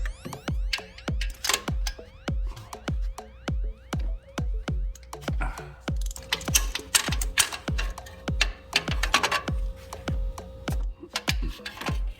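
A hand ratchet clicks in quick rhythmic bursts while removing old spark plugs from a 6th gen Camaro engine, close and crisp, with metallic pawl ticks repeating in short runs and a few heavier knocks.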